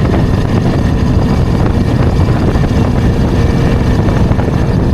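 Light aircraft engine throttled back to idle in flight, a loud steady propeller drone mixed with rushing wind noise in the cockpit, continuous for the whole stretch with no talk.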